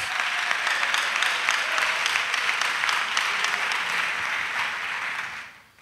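A church congregation at an annual missionary retreat in Côte d'Ivoire applauds in acclamation, with dense, steady clapping that fills the space and fades out at the end.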